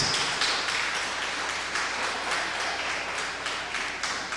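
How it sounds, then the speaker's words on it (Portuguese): A church congregation applauds during a worship service, a steady, dense wash of many hands clapping together that holds at an even level throughout without any speech over it. "Você pode aplaudir ao Senhor?"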